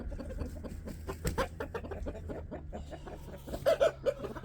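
A large nine-pound Qaib Thai rooster clucking close by in a quick series of short, uneven clucks, with a few louder calls near the end.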